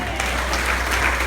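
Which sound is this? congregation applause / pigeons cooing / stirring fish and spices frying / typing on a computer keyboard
congregation applause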